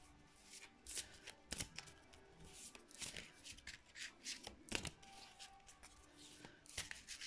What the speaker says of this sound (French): Et je bats les cartes comme je peux.